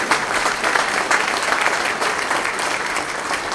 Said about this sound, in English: Give one more round of applause for all of the help you did.